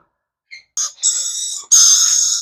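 Small pet parrots at a bird market give a few sharp, close calls: short chirps, then two longer harsh screeches with brief gaps, no talk.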